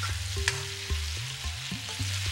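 Sindhi chicken with spices frying over medium-high heat while being stirred, a constant sizzle broken by repeated scraping strokes of the spoon, close and alone.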